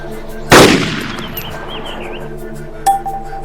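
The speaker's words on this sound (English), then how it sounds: "Line up the crosshairs over the target and fire" A single sniper rifle shot in the video game Arma 2 cracks loudly with a ringing decay, followed a couple of seconds later by a short metallic clink.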